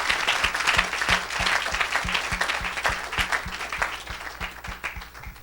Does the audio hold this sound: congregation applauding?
yes